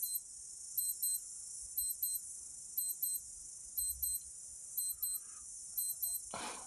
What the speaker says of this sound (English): my alarm going off.